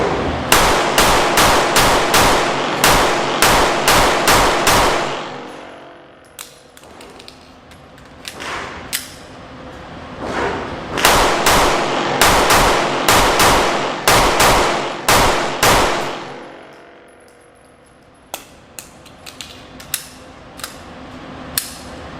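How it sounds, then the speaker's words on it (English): A Smith & Wesson Shield Plus pistol fires rapid strings of shots at close range, fast sharp cracks in bursts separated by short pauses, ending with a few scattered quieter clicks and clanks. "let's see how this gun rapid fires."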